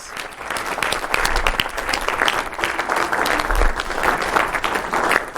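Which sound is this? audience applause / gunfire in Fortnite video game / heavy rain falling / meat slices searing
audience applause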